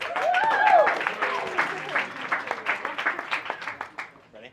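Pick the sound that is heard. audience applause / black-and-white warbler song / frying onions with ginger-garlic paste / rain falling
audience applause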